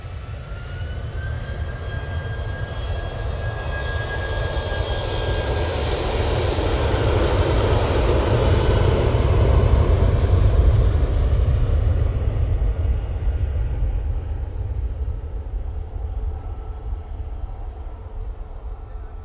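A Eurowings jet departing Manchester Airport for Dusseldorf, a loud engine roar with a high whine that builds, peaks as it passes, and then gradually thins out into the distance, with no voices.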